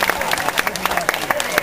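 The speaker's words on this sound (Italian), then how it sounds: "Ancora un applauso per Fabio Taborre." Short burst of crowd applause for the winner of the 62nd Gran Premio Città di Camaiore cycling race, scattered claps under someone speaking over a public address.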